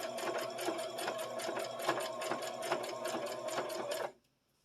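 A sewing machine stitching fabric for a simple home craft, running steadily with a fast, even mechanical rattle for about four seconds before stopping abruptly into quiet.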